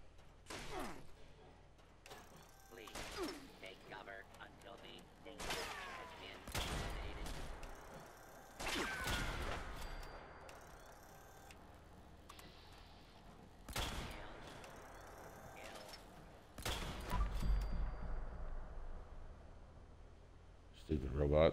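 Robot enemy firing at the player in Fallout 76, a series of sharp shots and thuds spread across the stretch, with a voice talking over and between the bursts.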